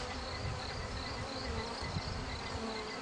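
Honey bees droning inside a hive with the entrance reduced to its smallest hole, a dense, constant, close buzz with no pauses or voices.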